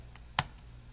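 Keystrokes typing an Nmap scan command on a computer keyboard, a single crisp close key click with a couple of fainter taps around it, quiet and brief over a low hum.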